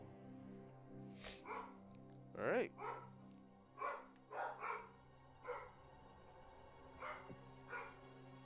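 Several excited dogs bark at someone at the door, a string of sharp, irregular barks and yips close by, with a person talking briefly among them.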